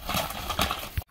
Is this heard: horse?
yes